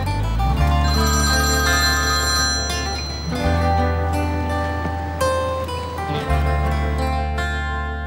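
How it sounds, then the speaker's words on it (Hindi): A phone's ringtone sounds loudly, repeating as a bright electronic melody in a few phrases with brief dips between them, alone without speech. "क्या फोन नहीं उठाओगे बेटा?"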